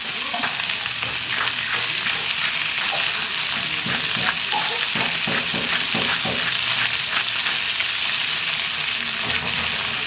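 Meat with skin frying in hot oil in a pan, seasoned with salt, crackling and sizzling steadily and loudly with dense spitting pops throughout, no voices.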